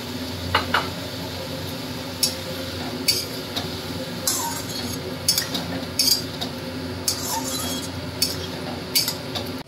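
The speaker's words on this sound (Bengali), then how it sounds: "পোস্তটা দেওয়ার পর বেশ কিছুক্ষণ কষাবে।" Ridge gourd with poppy seed paste being stirred and fried in a pan: a continuous soft sizzle with repeated sharp clinks and scrapes of the spoon against the metal, close up.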